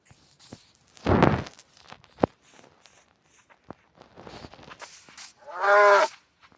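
A Minecraft cow moos once near the end, a short harmonic bellow, after scattered footstep-like blocky game sounds and a loud thump early on.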